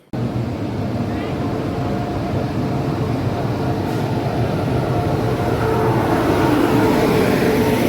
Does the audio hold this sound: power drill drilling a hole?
no